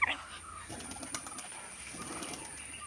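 Pigeons at a pigeon loft, heard faintly with a brief sharp call at the start followed by soft, scattered bird sounds over a quiet background.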